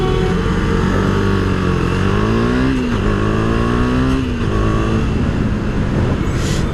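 A KTM Duke 250 motorcycle accelerates away from traffic, its engine note rising through the gears with a brief dip at a shift. Loud, close and continuous under rushing wind.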